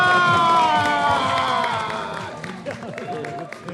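A studio audience on a T20 World Cup cricket talk show bursts into loud applause and cheering that slowly fades, with voices shouting over it.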